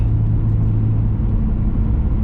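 A car engine drones low and steady while driving, a continuous rumble with a faint whir on top, close and unbroken throughout.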